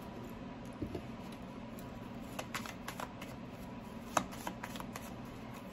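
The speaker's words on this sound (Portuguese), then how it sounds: "Vou continuar embaralhando" A deck of tarot cards being shuffled by hand, soft continuous riffling and papery flicks with a few sharper snaps, close and quiet with no talking.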